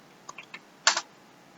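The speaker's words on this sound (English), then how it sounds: "If you go into the terminal and type" A few quick keystrokes on a computer keyboard entering a terminal command for a Raspberry Pi: light scattered clicks followed by one louder, denser burst of keys, close and alone.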